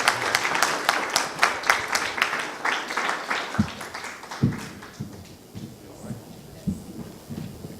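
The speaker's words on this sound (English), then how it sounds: "Please give her a round of applause." Lecture audience at a US-Malaysia relations event claps in brisk, fairly dense rounds, then thins to a few scattered individual claps before fading out.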